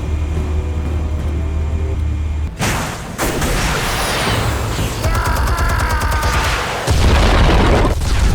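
Explosives going off in the Batman Telltale Series video game: a heavy boom followed by rumbling debris and crackling blasts, loud and close, then a second surge of roaring detonation noise near the end.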